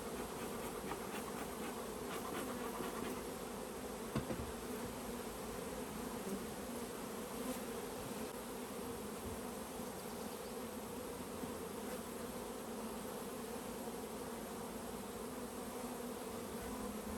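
Honeybee swarm fanning and buzzing at a hive entrance in a Michigan swarm catch, a dense steady drone from many bees that is close and continuous throughout, with no talking.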